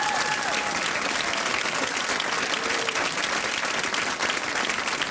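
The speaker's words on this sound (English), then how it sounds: "Give her a big round of applause." Steady, dense applause from a TV sketch-comedy studio audience fills the whole stretch at an even, loud level, with no voices over it.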